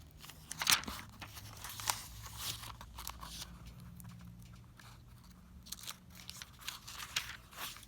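Paper pages of a Rainbow Study Bible turned one-handed, giving soft crisp rustles and crinkles in several brief bursts over a quiet, low background.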